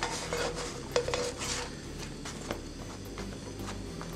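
Pita pieces in olive oil are stirred in a frying pan, a utensil repeatedly scraping and knocking against the pan over a faint background sizzle.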